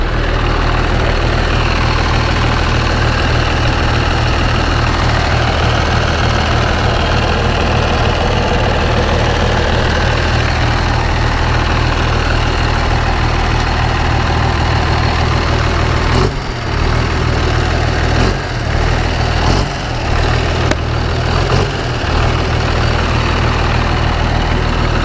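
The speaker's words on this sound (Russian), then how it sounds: "Бодренький моторчик, все путем." A small engine idles steadily on a first outing to the fields, a loud, close, even low rumble with a few brief dips and knocks near the end.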